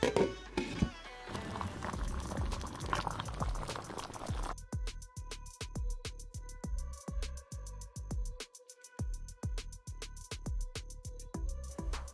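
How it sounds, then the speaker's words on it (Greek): Tomato sauce with a little added water and cinnamon simmers in a pot for soutzoukakia, making a dense bubbling hiss for the first few seconds before a steady run of rhythmic clicks takes over. "Προσθέτω και λίγο νερό και αφήνω τη σάλτσα να σιγοβράσει για 10 με 15 λεπτά μέχρι να δέσει."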